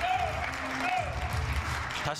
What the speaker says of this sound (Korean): 관중들의, 팬들의 함성 소리가 커지고 있습니다